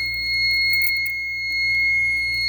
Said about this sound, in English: And you can see the alarm is going off